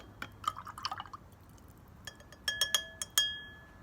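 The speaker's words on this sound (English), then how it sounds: "We're gonna stir this one up, and then we're gonna stir this one up." A spoon stirs a water-dissolvable CBD product into a glass of water, giving quick clinks against the glass, first soft rapid taps, then several bright ringing strikes that linger, close and alone.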